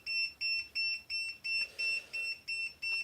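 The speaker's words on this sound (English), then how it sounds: "that's going to beep at me until I take this off" A ZOKOUN laser level beeps in a steady, regular rhythm, nine evenly spaced shrill electronic tones about a third of a second apart, close and clear over a quiet background.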